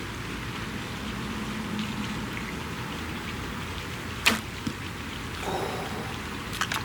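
An arrow leaves a traditional bow fitted with a Creek Walker quiver, giving one sharp, brief release thump with a couple of fainter knocks after it, set against a quiet outdoor hush with no talking.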